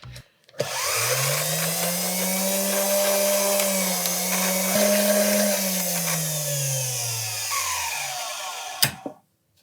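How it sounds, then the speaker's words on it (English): An electric drink mixer whirs through a banana daiquiri in one loud, continuous motor run of about eight seconds, its pitch rising then sagging before it cuts off sharply. "we are gonna hit it with the electric drink mixer"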